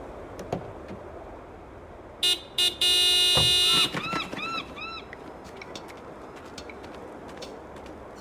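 A car horn in a Broken Sword 5 scene blares in a few short bursts, then one long sustained honk, followed by a high chirping alarm-like tone, over a quiet outdoor background.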